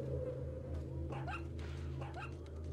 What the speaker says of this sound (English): Also, the dog's here.